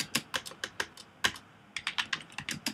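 Fingers type a search on a computer keyboard, a quick uneven patter of close, soft key clicks in two bursts separated by a brief pause, with no talking.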